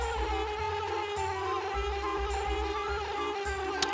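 A bee buzzes steadily in the Banjo-Kazooie video game, a continuous high, reedy drone with a faint rhythmic pulse beneath it, alone and fairly loud.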